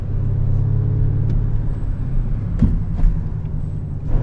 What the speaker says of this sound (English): we're about to take the RS7 on the German Autobahn